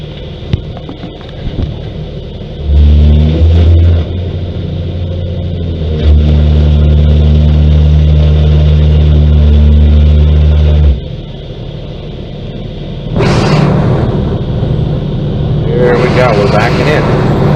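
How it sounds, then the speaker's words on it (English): A big rescue truck with flashing lights backs slowly into a garage, its engine a low, steady drone that swells and holds, with wind buffeting the microphone and people talking over it. "he's going to guide Jim as he backs this big rescue truck into the garage"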